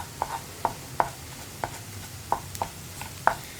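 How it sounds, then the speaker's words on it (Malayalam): Scrambled egg in a pan for a carrot and beans egg thoran, broken up with a utensil: a series of sharp taps against the pan, seven or eight irregular knocks close by over faint background, no talk. "ഇനി ഒന്ന് ചെറിയ പീസുകളാക്കിയെടുക്കാം."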